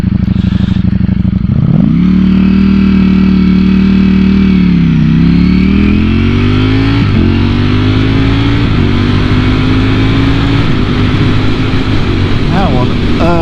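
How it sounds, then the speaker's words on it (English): A car engine revs loudly through downshifts, its pitch dropping, rising and blipping in several steps, close and dominant throughout with a steady rushing background. "Listen to this on the downshift."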